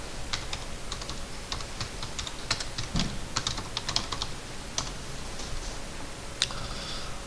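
Rapid clicking of computer keyboard keys entering an AutoCAD mirror-command shortcut, a steady run of light close taps over a faint background hum.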